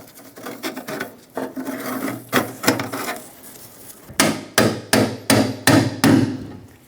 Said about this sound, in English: Tap the lock ring into the locked position.